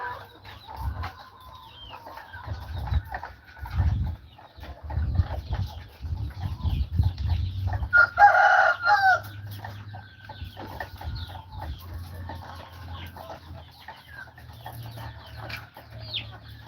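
Caged chickens on a farm cluck steadily through the whole stretch, with a louder burst of squawking or crowing partway in, over low background rumble and handling noise.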